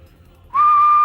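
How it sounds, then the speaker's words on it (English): A single whistle blast starts abruptly and holds a steady, loud, clear tone for about half a second, alone with no talk. "Puts his whistle in his mouth. Just for fun. Lets out one."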